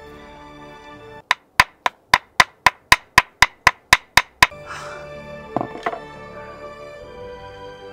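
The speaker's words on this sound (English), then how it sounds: "I'm gonna use my hammer to try and drive it in as much as possible." A hammer strikes a stake into garden soil in a garden in Arizona, thirteen sharp, evenly spaced blows in quick succession, close and clear, followed by quieter rustling and faint handling noise.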